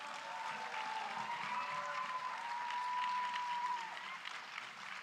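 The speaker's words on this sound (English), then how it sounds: "big round of applause." Audience applause follows a Bharatanatyam arangetram dance performance at a live event, sustained steady clapping from a large crowd that stays loud through the whole stretch, with a faint tonal hum running beneath.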